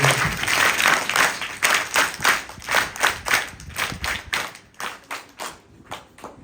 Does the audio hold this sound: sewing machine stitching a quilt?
no